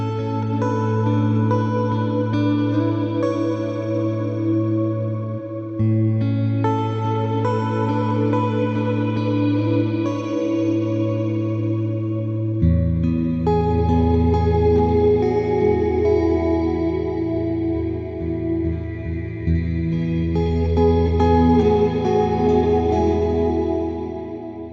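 Eventide Blackhole reverb plugin washing sustained synth chords into a huge, dense ambient tail, a steady swelling pad that shifts to a deeper, louder chord midway and holds without a break, with no voices.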